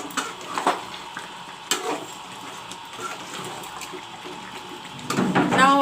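Mutton frying with masala in a pan, a low sizzle with scattered stirring scrapes and clatters, growing louder and busier near the end.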